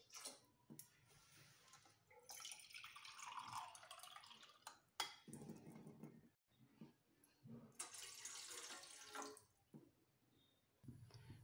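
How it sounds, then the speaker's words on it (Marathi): About two glasses of water are poured into a wok on a home stove, making a faint, sustained splashing pour with clinking of the vessel, a short pause, then a second stream of pouring. "कढईत 2 ग्लास पाणी टाकू।"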